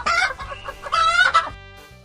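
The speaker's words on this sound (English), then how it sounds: "chicken," Domestic chicken clucking in a few quick bursts, then a rooster crowing loudly and close, with a final short cluck, no people talking.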